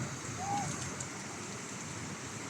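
Heavy rain lashes down during a storm in Abu Dhabi, a steady, dense wash of broadband hiss with no gaps, fairly close and even in loudness throughout.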